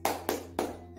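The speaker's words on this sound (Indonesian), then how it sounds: "mari kita melaksanakan tepuk PPK" Three crisp, evenly spaced hand claps from a primary school class's PPK clap chant, close and clear, each one short and sharp against a quiet, faintly humming room.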